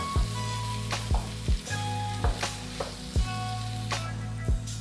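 Potatoes fry in a pan for a prawn chilli fry, a loud steady sizzle close up, broken by regular spatula scrapes about once a second, with no voices.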